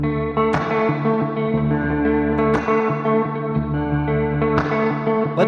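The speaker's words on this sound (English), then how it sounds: "let me teach you the rhythm guitar part." An electric guitar plays the rhythm part of a song, with strummed chords roughly every two seconds ringing out through echo and reverb.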